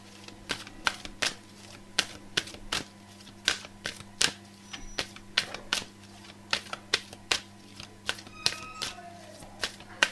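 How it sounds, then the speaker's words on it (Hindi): A deck of cards is shuffled for a card reading, giving a series of crisp, close flicks and taps at an uneven rhythm over a faint steady background hum. "तो जब तक मैं कार्ड्स शफल कर रही हूँ"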